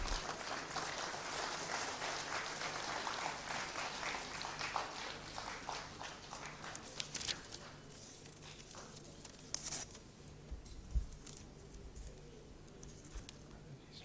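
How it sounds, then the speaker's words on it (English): Audience applause at a maritime symposium welcoming the CEO to the stage, dense at first then thinning into scattered claps and footsteps as it fades out. "Please clap for him."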